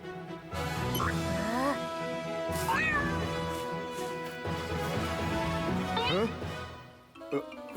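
Cartoon cats meow repeatedly in an animated scene, several drawn-out, rising and falling calls following one another, loud and close over a busy background.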